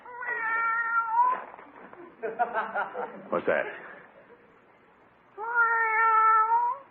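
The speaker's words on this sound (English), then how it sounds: "go away, cat" Cat meowing in a drawn-out, wavering call near a back door, heard twice, with a person speaking and chuckling briefly between the meows.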